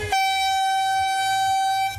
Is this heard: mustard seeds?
no